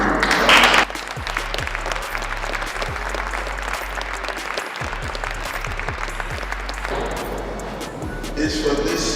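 A board of education meeting audience applauds a Division 4 back-to-back state championship team, steady loud clapping filling the room for several seconds, with low hum underneath and a voice briefly over it near the start.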